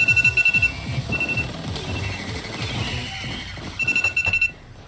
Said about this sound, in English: Shut up, alarm clock. It's my iPhone 15 Pro.